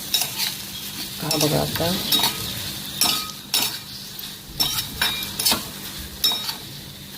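Jaggery roasting in ghee in a hot kadhai, stirred with a spoon: steady sizzling with repeated scraping strokes and metallic clinks against the pan, close and continuous, with a brief spoken remark.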